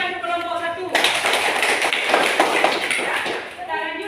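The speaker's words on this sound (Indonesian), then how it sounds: "Tepuk tangan untuk kelompok 1." A classroom group breaks into close, dense applause for the first student group, clapping steadily for about three seconds between stretches of a teacher's speech.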